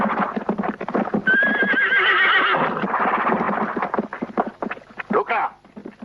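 Horses whinny loudly and hooves clip-clop in a western film scene, with a long high neigh near the start among steady galloping hoofbeats and rider voices shouting under the action.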